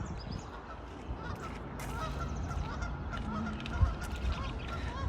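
Two Canada geese honk repeatedly in a garden setting, their calls clear against steady outdoor background noise at moderate distance.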